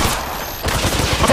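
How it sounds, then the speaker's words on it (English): Enemy gunfire in the mobile battle royale game Apex Legends Mobile, a dense, loud burst of overlapping shots that rattles on continuously through the whole moment, with a brief dip partway before the firing resumes. "But they're shooting at me!"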